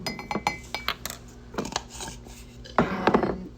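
A spoon scoops instant coffee into a cup, with a series of close metallic clinks and taps against ceramic, a few light scrapes and a louder cluster of knocks near the end, with no talking.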